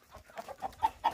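Chickens in a farmyard, let out of an opened coop, give a quick series of short clucks that grow slightly louder, close by with no talking.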